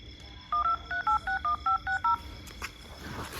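Touch-tone telephone keypad being dialed to call someone: eight short beeps in a quick, even sequence, close and clear, followed by a quiet room.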